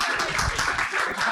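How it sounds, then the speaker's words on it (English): Applause from an audience at an evening youth event, a dense steady patter of many hands clapping for just over a second. "A big applause"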